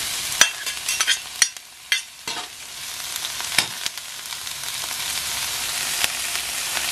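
Onions with long green chilies and bird's eye chilies fry in a pan for tofu sisig, giving a constant hissing sizzle with occasional scraping stirs and clicks, close by, with no speech.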